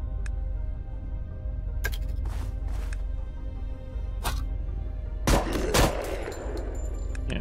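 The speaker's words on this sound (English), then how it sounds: "Yeah, shoot him a couple of times." Gunfire in the zombie survival video game Undeadly: a few faint early cracks over a steady low background hum, then two louder, sharp shots close together near the end.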